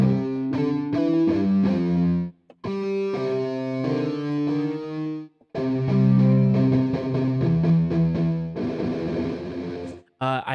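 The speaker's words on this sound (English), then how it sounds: "Looks like electric guitar, power chords, power sustains." Sustained distorted electric guitar power chords from the Metropolis Ark 1 orchestral library ring out loud and gritty, shifting through a chord progression with two short breaks and a quick stop near the end.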